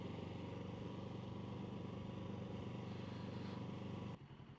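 A motorcycle engine hums steadily while riding through town, a constant mid-low drone close by that drops in level abruptly near the end.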